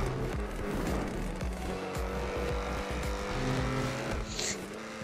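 Car engine revving in GTA 5 Online, a loud near engine climbing and dropping through gear changes with brief tire noise and a passing vehicle, no speech heard.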